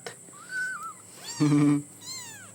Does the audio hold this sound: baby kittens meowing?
yes